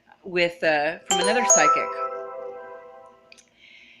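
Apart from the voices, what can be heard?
computer notification chime as video uploads finish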